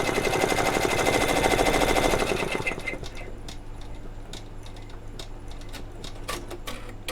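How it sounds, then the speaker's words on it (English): An embroidery machine stitches a design onto Converse canvas shoes, giving a loud, rapid mechanical rattle for the first two and a half seconds before it drops to quieter intermittent ticks and clicks. "this thing got a whole heck of a lot more embroidering to do"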